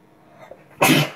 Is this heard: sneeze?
yes